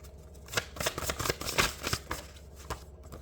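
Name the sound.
tarot cards being reshuffled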